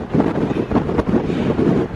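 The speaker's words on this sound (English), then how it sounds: "It is windy up here," Strong wind buffeting a microphone on a snowy mountain pass during the White Pass railway tour near Skagway, Alaska, a loud, continuous gusty roar with pulsing surges and no talk.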